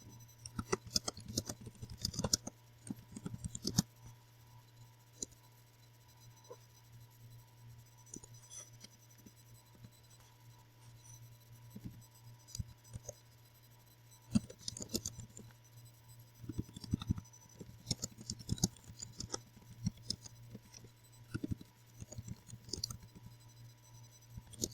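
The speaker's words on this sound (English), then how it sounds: "so you see here I type the comment, you click save" Computer keyboard keys clack in short irregular bursts of typing, faint and close, separated by quiet pauses over a steady low hum.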